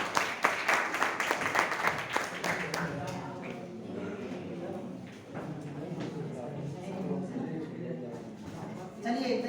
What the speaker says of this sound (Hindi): जोरदार ताली बजाओ अपने लिए एक बार